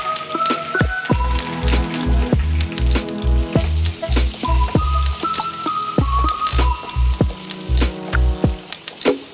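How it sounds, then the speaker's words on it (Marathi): Baby corn fries in butter with a bright, busy sizzle and sputter, heard under loud rhythmic background music with a thumping beat. "जे बेबीकॉर्न घेतले होते ते आपण आता बटरमध्ये फ्राय करून घेऊया।"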